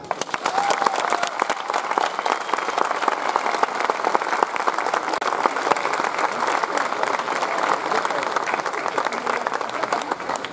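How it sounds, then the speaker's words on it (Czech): Dense, sustained audience applause for the recruit dancers at the Strážnice folk festival finale, a continuous wash of many hands clapping throughout. "patří jim za to dík a potlesk"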